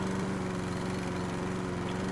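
Lawnmower running in the House Flipper video game, giving a continuous, loud, even engine drone with a steady pitch and no break.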